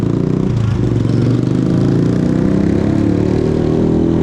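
A motorcycle engine runs loudly and steadily with a rough, rumbling idle and some mechanical clatter, close by, no talking.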